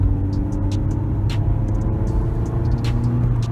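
A Jaguar car accelerates up to speed, its engine a steady low drone with road rumble heard from inside the cabin and a few faint clicks.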